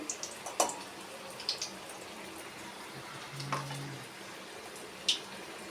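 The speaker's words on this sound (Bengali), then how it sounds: "আমি দুটো করে ভেজে নিই আগে।" Egg devil chops fry two at a time in hot oil, giving a soft, steady sizzle with a few sharp pops and clinks scattered through it.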